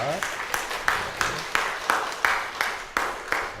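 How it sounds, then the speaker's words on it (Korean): A church congregation welcomes visiting missionaries with clapping, heard as firm, evenly spaced claps at a slow steady pace in a reverberant hall. "우리 박수로 환영하겠습니다"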